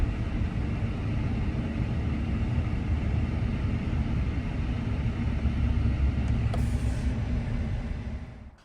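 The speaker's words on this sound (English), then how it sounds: "You hear the whir of the engine, the hum of the engine. You hear some wind noise" Steady broadband road roar from inside a moving Tesla Cybertruck, with a low electric motor hum and light wind noise, continuous and moderately loud before fading at the end.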